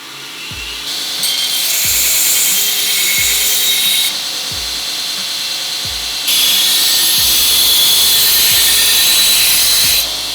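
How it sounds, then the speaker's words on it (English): A belt sander grinds the burrs off a freshly cut metal tube piece, giving a loud abrasive hiss in two long sustained passes with a short gap between them, and a low rhythmic thump running underneath. "I took it over to my belt sander to deburr it"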